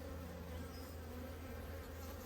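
Honeybees droning steadily around an open hive frame carrying nectar during a late-winter inspection, a dense, continuous close buzz with no voices over it.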